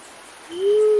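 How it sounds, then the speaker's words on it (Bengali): A single low, hollow hoot from a night bird swells in halfway through and holds steadily, clear against a quiet background. "নাম না জানা কি এক রাত পাখি"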